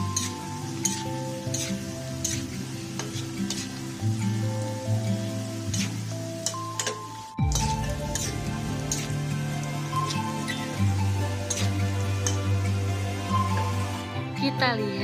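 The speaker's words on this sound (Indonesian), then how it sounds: "Goreng bawang putihnya sampai berwarna kuning keemasan." Thinly sliced garlic frying in hot oil until golden for crispy fried garlic, a steady crackling sizzle that runs continuously from start to end, moderately loud and close, with a brief clatter partway through.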